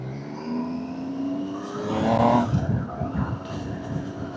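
A new 2026 Triumph Trident 800 motorcycle pulls away hard under acceleration, its engine note rising through quick-shifted gears, loud and close with steady wind roar beneath.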